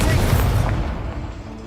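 A burst of fire from the Incendio spell in the video game Hogwarts Legacy: a loud, booming blast that fades into a rumbling tail over about a second and a half.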